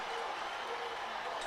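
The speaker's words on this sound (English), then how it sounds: "They're roaring their Spice Boys on. We can hear the cheers." Football stadium crowd at an international friendly between Grenada and Jamaica, a steady roaring wash of cheering and applause from many spectators, continuous and fairly distant, with commentary talking over it.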